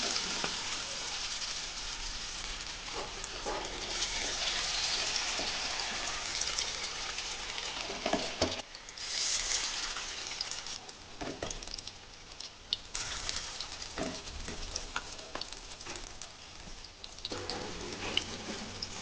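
Malabar spinach pakoras in gram flour batter fry in hot oil, giving a continuous, close, rain-like bubbling hiss with scattered pops that varies in intensity.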